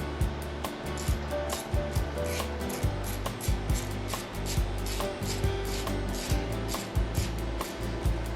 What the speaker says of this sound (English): let's scrape this goo off and glue this cover back on